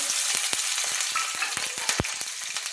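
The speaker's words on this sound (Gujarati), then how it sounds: "અને મરચાં નાખશું વઘાર માટે।" Chillies hit hot oil already tempered with cumin, asafoetida and curry leaves, giving a dense, close sizzle with sharp pops and crackles scattered throughout.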